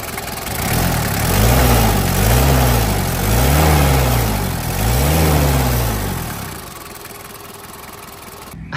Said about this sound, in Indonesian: suara mesinnya renyah